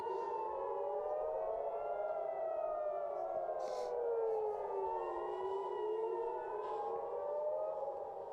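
Wailing civil defense siren, rising and falling in long overlapping sweeps, loud and continuous with a faint background hiss.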